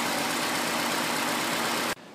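A Ford engine runs steadily at idle as a broadband mechanical hum, close and loud, then cuts off abruptly near the end, leaving a quieter background.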